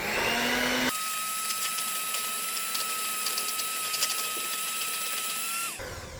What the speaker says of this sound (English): let's blend this in after that little mix up right there